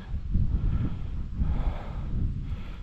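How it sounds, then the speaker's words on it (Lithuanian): Low, gusty wind at a fishing spot buffets the microphone in uneven waves, a dull rumbling roar with no voices. "ir tas vėjas nemalonus čia kol kas"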